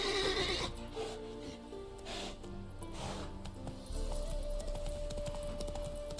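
Roach the horse reined in within The Witcher 3: Wild Hunt on PS5, a loud whinny up front followed by clip-clopping hooves slowing, with game music and ambient sounds underneath.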